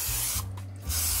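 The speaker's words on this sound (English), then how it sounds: "You can go ahead and spray your pan." Steady hiss of an aerosol cooking spray on a baking pan, two sustained bursts with a short pause between, close and fairly loud.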